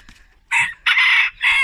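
A very small rooster crows close by, three loud, strained bursts after a brief quiet start, the last cut short.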